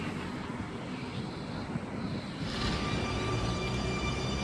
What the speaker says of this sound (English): And Waratah A72 now departing on platform number 1.